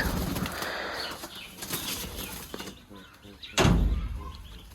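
A large magpie pouter pigeon beats its wings in bursts while being held in the hands, with loud flapping and rustling throughout and a strong burst of wingbeats near the end.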